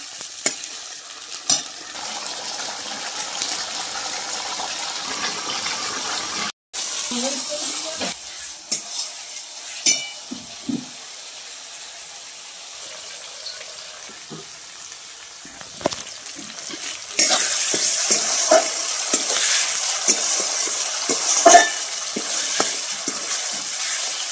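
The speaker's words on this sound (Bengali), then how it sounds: "এখন মশলাটা ভাজছি।" Ground paste of ginger, garlic, cumin and coriander fries in a pan with potatoes and green jackfruit while being stirred, a steady sizzle broken by scraping strokes that grow louder and denser toward the end.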